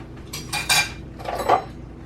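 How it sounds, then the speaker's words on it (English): Metal forks and spoons rattle and clink as a fork is picked out of a kitchen cutlery drawer, two short bursts of jangling close by with no talking. "I need a fork, not a spoon."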